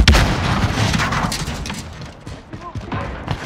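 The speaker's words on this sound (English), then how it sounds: "Stun grenade out." A stun grenade goes off in a Call of Duty hardcore domination match on the Crash map, a sharp booming blast followed by crackling gunfire and thuds in a busy battle mix.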